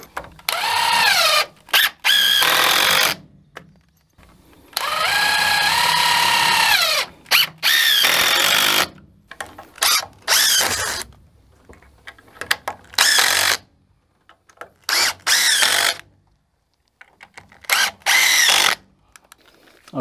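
A power drill drives screws into the wooden framing of a sawmill shed's millhead storage room, giving repeated bursts of whirring that rise and wind down, separated by short pauses of quiet, close and loud.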